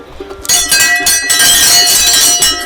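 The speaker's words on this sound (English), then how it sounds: "There's our 2 bells right here. This is gonna ring in the camp." Two bells hung at a camp ring out suddenly after a quiet start, then keep up a loud, bright, jangling clangour that shimmers on with uneven pulses.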